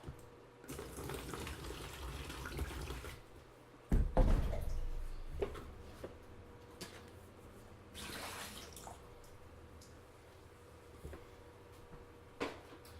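Spring water runs steadily into a 6-gallon fermenter for apple cider, with a few knocks and clunks of handling partway through.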